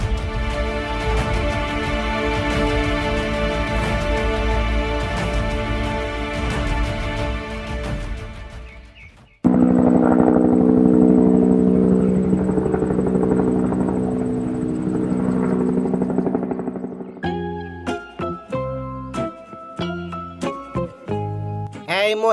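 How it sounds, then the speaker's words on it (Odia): A cartoon helicopter whirs with a steady, loud rotor drone for several seconds, then gives way to a softer, rougher engine-like rumble before other sounds take over. "ଏଇ ହେଲିକପ୍ଟର କୁଆଡୁ ଆସିଲା?"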